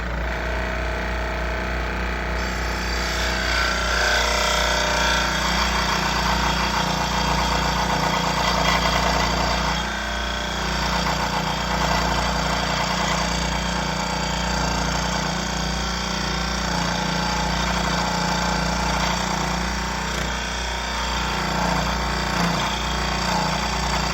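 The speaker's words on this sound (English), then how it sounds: "I thought I'd use the scroll saw to carefully, if I can, just cut away most of what I don't need." Scroll saw cutting a nut blank for an electric violin, a steady, loud motor hum with continuous buzzing vibration running throughout without pause.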